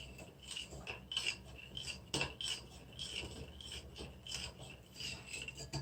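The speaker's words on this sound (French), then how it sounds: "en attendant, on mélange bien cette sauce" A utensil scrapes and rubs against the pot while the sauce for a Korean pork rib stew is stirred, producing quiet, irregular rasping strokes that repeat over several seconds.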